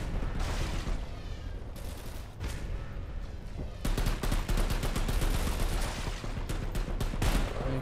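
Gunfire in the online shooter game KOMPETE, dense bursts of rapid shots with automatic fire rattling steadily through the second half, loud and close with no talking.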